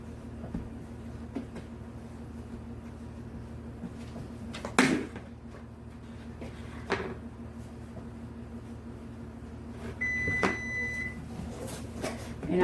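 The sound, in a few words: oven beeping to signal it has finished preheating to 400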